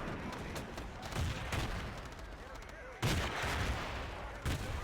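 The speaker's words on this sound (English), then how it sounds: "There's still a huge amount of grenades coming in from the China side." Grenade explosions and gunfire in Battlefield 2 during a large team match, dense continuous rattling shots with sharp loud bursts around the middle and near the end, all heavily layered.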